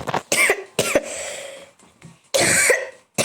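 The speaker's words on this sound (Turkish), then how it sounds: "Abi öksürüp duruyorum konuşamıyorum." Harsh coughs burst out several times in a row, loud and close, with a throaty rasp and a short breathy pause between fits.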